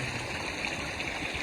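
Irrigation water runs through a channel into a cumin field, a steady, gentle rushing and gurgling flow heard close by and unbroken.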